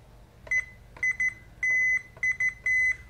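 Continuity tester beeping while probing ground pins connected to a Hantek scope: a series of clear electronic tones, some short chirps and some longer held beeps, sounding in an irregular pattern over about three seconds.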